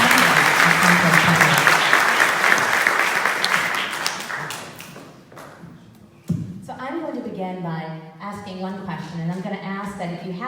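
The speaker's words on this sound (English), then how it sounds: "Let's give a round of applause for all our" An audience at a panel discussion breaks into loud applause that gradually fades out, followed by a voice speaking clearly.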